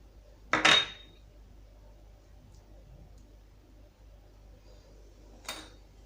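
A metal spoon knocks twice against a pot while cream, butter and vanilla are stirred for a Turkish dessert. One clear clink comes early and a softer one several seconds later, with a quiet hum in between.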